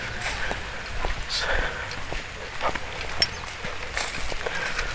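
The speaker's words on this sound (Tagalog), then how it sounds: "pumapatak-patak na yung ulan" Light rain patters steadily with scattered drips and taps, a soft continuous wash outdoors with faint movement sounds underneath.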